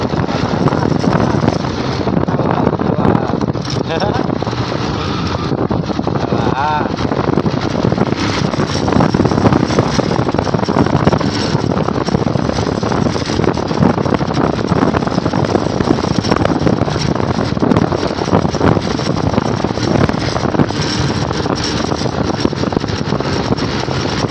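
A speedboat motor drones continuously on open water, heavily buffeted by wind noise against the microphone, loud and close with no talking.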